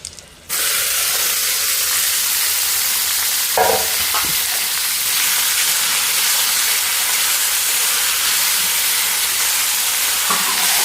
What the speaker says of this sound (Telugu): పోపు అయితే మాడిపోకుండా అయితే చూసుకోవాలి